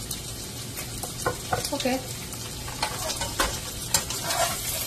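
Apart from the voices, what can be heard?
stirring pasta with Alfredo sauce and chicken in a pan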